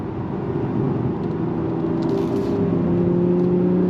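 A 2025 Acura TLX Type S performance sedan in Sport Plus mode hums at a raised, steady engine drone with a slight rise in revs, heard up close from inside the cabin with no voices.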